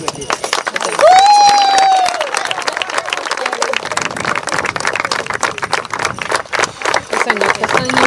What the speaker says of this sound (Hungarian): Szeretnék kérni még egy tapsot.